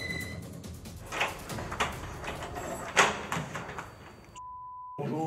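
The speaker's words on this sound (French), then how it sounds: "la porte va s'ouvrir." A front door of a house opens with a series of clunks, rattles and a sharp knock of the latch, fairly close and moderately loud, before a brief near-silent pause and a steady electronic tone.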